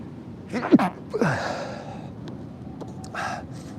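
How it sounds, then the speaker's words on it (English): A single person sneezes with a quick gasping intake followed by a sharp burst, then a softer breathy snort, close and moderately loud against a quiet indoor background. "I'm going to sneeze, hold on."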